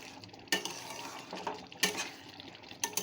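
Mustard oil is stirred into a ridge gourd, potato and poppy-seed curry with coconut and peanuts, giving soft scraping and a low simmer broken by three sharp metallic clinks of the spoon against the pan.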